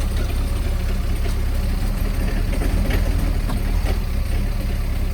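Mahindra ROXOR engine idling cold after a couple of days unused, a steady low rumbling drone running evenly throughout with no voices.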